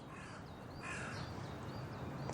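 Crows caw a few times at a distance in a quiet outdoor setting, faint harsh calls over a soft background hush.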